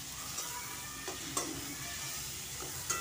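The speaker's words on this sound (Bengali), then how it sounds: "দিয়ে আমি আবারও খুব ভালো করে মিশিয়ে নিচ্ছি আর সামান্য একটু ভেজেও নিচ্ছি।" Turmeric and cumin powder fry in a pan with a steady close sizzle while a utensil stirs and scrapes, giving a few soft clicks over the continuous hiss.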